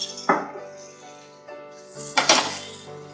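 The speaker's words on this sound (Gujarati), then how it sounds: "તેને હું વ્યવસ્થિત હલાવી નાખીશ." A spoon works Schezwan chutney into a veg manchurian mixture in a bowl, making a few sharp clanks and scrapes separated by short pauses.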